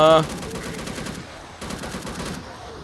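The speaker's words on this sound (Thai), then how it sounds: "ยิงไปยิงไปยิงไป" Rapid automatic gunfire from the zombie-shooting video game Unkilled, two sustained bursts of fast repeated shots with a short pause between them.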